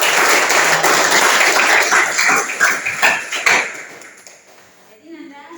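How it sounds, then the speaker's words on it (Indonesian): Classroom applause from a group of about fifteen students, a dense burst of clapping that swells and fades into scattered claps, with voices and brief chatter at the end. "Berikan aplaus untuk"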